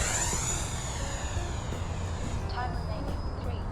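An FMS Futura 64mm EDF radio-controlled jet makes a fast pass, its ducted fan giving a steady whine that sweeps down in pitch as it goes by, with a constant wind-like roar underneath.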